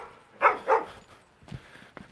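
A dog gives two quick barks, moderately close, then a few faint thumps and rustles follow.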